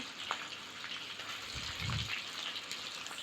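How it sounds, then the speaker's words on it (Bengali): A rohu fish head goes into hot oil to fry, giving a faint, soft sizzle with a brief low splash-like surge midway, quiet and without talk. "তো এবার মাথাটা দিয়ে দিলাম ভাজার জন্য।"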